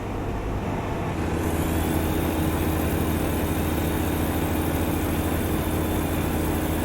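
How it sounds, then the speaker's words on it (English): Heavy truck hauling a big double trailer in American Truck Simulator with the exhaust brake engaged, a steady loud low engine drone that holds constant throughout with no talk. "Got the exhaust brake in."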